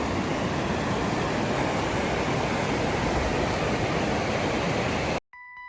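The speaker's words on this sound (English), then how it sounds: "Purposely I am not using mic so that you can enjoy the river sound as well." Suru river in Kargil rushing loudly and steadily, a dense continuous roar of flowing water that fills the whole clip before cutting off abruptly near the end.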